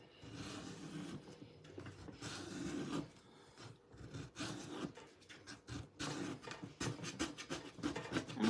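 Scraping strokes from a hand scraper drawn over a waxed, painted surface while making a farmhouse-style Santa hat craft, giving close, repeated rasping scratches in uneven bursts with short pauses between them.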